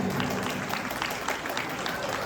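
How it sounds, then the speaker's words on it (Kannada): Audience applause at a Kannada Rajyotsava celebration held by a Kannada association in Belgium, a steady, dense patter of many hands clapping at moderate volume that fills the whole short stretch. "ಚಪ್ಪಾಳೆ."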